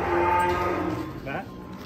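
A cow on a farm gives a loud, close, drawn-out moo that fades toward the end, heard alone without talk.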